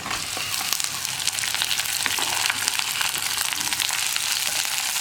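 Chopped okra frying in a hot pan with dried red chillies for vendakka thoran, giving a steady, dense sizzle that runs unbroken throughout at close range, with no voices.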